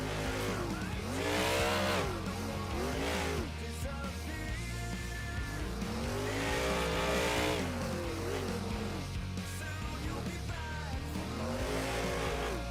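A drag racing truck's engine roars through a pass at a New Orleans event, the note climbing in pitch with each gear, dropping at the shifts and climbing again, loud and close with no talk over it.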